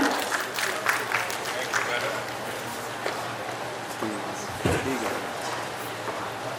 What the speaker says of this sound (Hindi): एक बार तालियां हो जाए अजय शाह जी के लिए